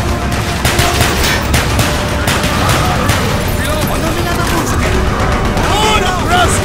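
Dense pistol and rifle gunfire with booms in Call of Duty: Black Ops at Vorkuta, a loud, chaotic battle of rapid shots and blasts, with voices shouting through it.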